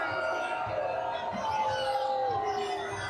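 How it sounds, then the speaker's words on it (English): Protest crowd outside Trump Tower, a steady wash of many voices with rhythmic shouted chanting rising and falling at a moderate distance, a faint siren-like tone sliding through in the background. "I'll let you just listen to the crowd"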